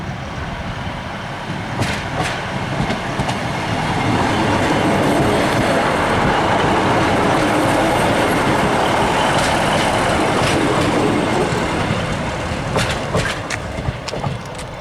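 Class 156 diesel unit 156902 running through Grantham station on the East Coast Main Line, a loud rumbling roar that swells and holds for several seconds with rhythmic wheel clicks and rattles, close by.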